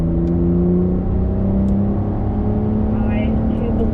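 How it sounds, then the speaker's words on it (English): A 2021 Porsche 911 flat-six engine pulls hard on a cone-marked driving course, a steady, loud drone with clear harmonics that climb slightly in pitch, heard close from inside the car. "Great sound of that flat 6."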